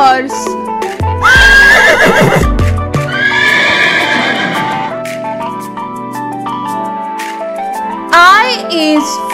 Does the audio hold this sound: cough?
no